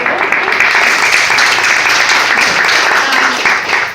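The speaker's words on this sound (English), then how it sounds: "I also want to give a huge round of applause to our amazing loyal customers" Dense, steady applause fills the room for the loyal customers of a small bakery in Schenectady, a continuous wash of many hands clapping at close range.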